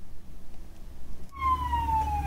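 A fire truck siren wails through congested evening rush-hour traffic in Cheongju, starting abruptly and sounding loud and close, with a descending tone over a low rumble of engines.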